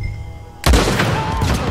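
Dynamite shot and blowing up in the game Red Dead Redemption 2: after a quiet moment a sudden heavy boom erupts, followed by a loud rumbling, crackling blast that carries on to the end.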